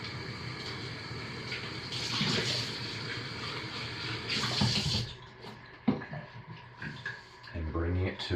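Lye water being poured slowly into soap-making oils gives a soft trickling, splashing pour with bursts of liquid noise, while a person talks quietly over it in a kitchen setting.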